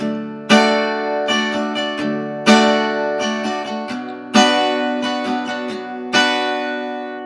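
Acoustic guitar strumming the chords of a song, with the second strum of each pattern pushed harder; four bright accented chord hits ring out in a steady rhythm with lighter strums between them, close and alone.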